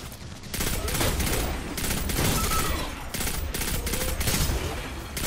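Gunfire from the video game Destiny 2: sustained rapid bursts of automatic shots fill the whole stretch, loud and close, with brief gaps between volleys and voices talking underneath.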